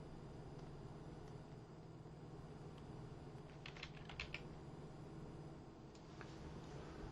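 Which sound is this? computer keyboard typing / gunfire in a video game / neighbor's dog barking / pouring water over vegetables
computer keyboard typing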